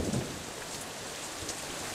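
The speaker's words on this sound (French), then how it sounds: "La pluie est bien rendue, franchement c'est bien fait." Steady rain hisses and patters through the stormy scene of the game Deadlight, with a soft low rumble at the very start and no voices.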